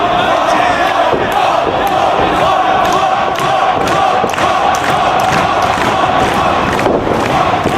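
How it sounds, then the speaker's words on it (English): A wrestling arena crowd roars steadily for CM Punk and Samoa Joe during an ROH World Title match, a dense unbroken wall of cheering with scattered shouts and sharp claps or thuds rising above it throughout. "I think this crowd is now showing its respect to both men because they know they're seeing a terrific wrestling match."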